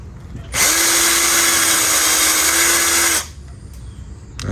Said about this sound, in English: I think the battery on my drill is dying.